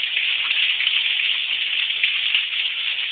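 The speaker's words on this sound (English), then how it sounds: "So these valves actually control the waterfall." Water pouring steadily from a jacuzzi waterfall outlet in a shower, a constant close hiss and splash with no breaks.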